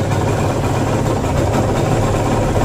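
A carbureted engine with a stripped, freshly tuned carb jet idles steadily and loudly up close, a constant low rumble with no talk over it.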